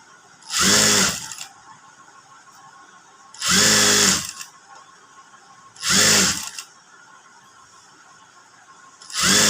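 A sewing machine stitching a frock in a boutique runs in four loud, close bursts of about a second each, separated by quiet pauses with a low background hum.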